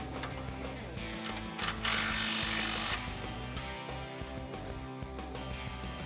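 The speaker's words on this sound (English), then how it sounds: "All right, so I have my impact back out. I'm gonna snug up the nuts on the passenger side first." An impact wrench snugs up exhaust nuts on the passenger side of a 1999-2004 Mustang GT during an X-pipe install, giving a brief burst of hammering whir among clanks and handling noise in a garage.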